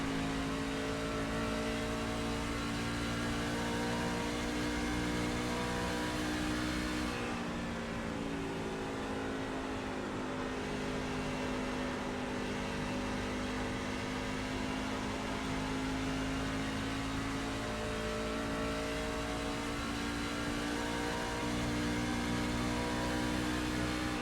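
NASCAR truck lapping Homestead in the iRacing sim, a loud, continuous engine drone with a strong steady pitch that dips briefly partway through, then holds at high revs to the end.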